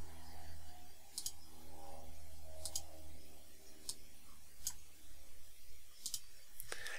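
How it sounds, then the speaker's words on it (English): Sharp computer mouse clicks select ranges in Excel on a Mac, arriving in a sparse, irregular series of about six isolated clicks over a low steady room hum. "I'm going to go ahead and click to select the ranges."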